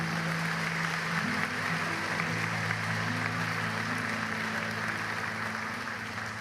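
Church congregation applauding the Lord during a service, a continuous wash of many hands clapping at even loudness, with a low sustained musical tone underneath.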